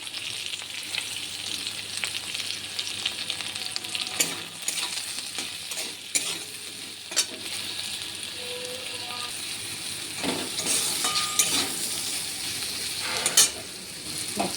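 Potatoes and okra already fried in a pan, stirred as turmeric goes in, giving a steady close sizzle with scattered scraping and clinking of the spoon, no talking.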